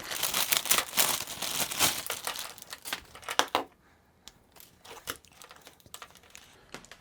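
Plastic packaging of a kit with two sound cards and a headset crinkles and tears in quick bursts up close, then a brief pause followed by softer rustling and a few small clicks.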